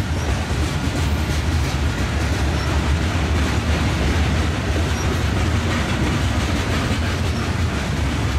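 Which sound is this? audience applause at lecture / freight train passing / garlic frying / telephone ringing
freight train passing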